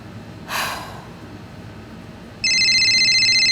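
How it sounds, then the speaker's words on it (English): Phone ringing, a bright electronic ring tone that starts abruptly after a soft breath-like rush and holds loud and steady, close. "The phone is ringing."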